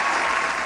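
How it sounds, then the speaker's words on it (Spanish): Studio audience applause for a guest on a live Spanish-language TV show, a steady dense wash of clapping filling the short moment, close and fairly loud with no talk over it. "Fuerte el aplauso para Silvita, por favor."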